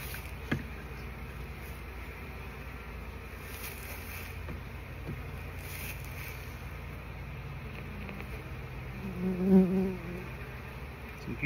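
A honey bee colony hums steadily during its removal from a trash can, a low, continuous buzz with a louder swell of bees near the end.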